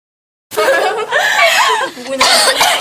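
A person coughs several times in a row in a demonstration of cough etiquette, the harsh bursts close and fairly loud, tangled with voice sounds.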